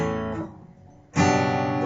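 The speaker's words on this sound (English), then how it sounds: "you can play the G and the C not barred, so it can sound like this." Acoustic guitar chords strummed open and not barred, G then C, one chord ringing, fading, then a bright fresh strum, close and loud with no talking.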